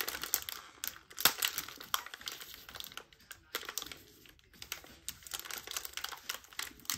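A potted tropical plant's root ball is peeled apart by hand, giving close, dry crinkling and tearing of soil and roots in quick, irregular bursts.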